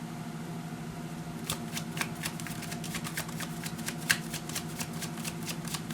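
An oracle card deck, Oracle of Mystical Moments, is shuffled by hand with a quick run of crisp riffling clicks and flutters over a faint steady hum, starting after a short quiet pause.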